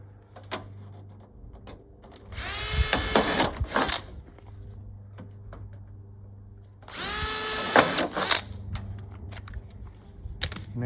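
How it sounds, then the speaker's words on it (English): A power drill pre-drilling holes in wood for a budget rain barrel install, two loud whirring bursts of a few seconds each separated by a quieter pause, close by with no talk. "I try to pre-drill everything ahead of time."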